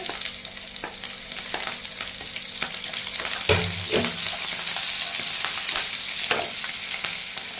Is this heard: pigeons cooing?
no